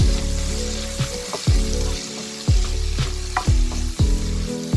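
Bitter gourd and tomato sizzle loudly in a pan while a spatula scrapes and clacks in regular strokes, the stirring rhythmic and close, with no one speaking.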